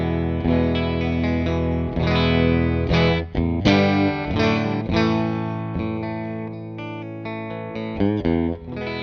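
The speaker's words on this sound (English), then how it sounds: "This is on the bridge clean tone to the Mesa boogie." Clean Stratocaster bridge-pickup tone through a Mesa Boogie Lonestar amp, with chorus-like shimmer on a steady, close electric guitar part of chords and single notes that runs throughout without talk.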